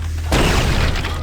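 Railgun firing in Quake 2: a low electric hum, then a single sharp, heavy boom that cracks out suddenly and trails off into a brief rumbling tail.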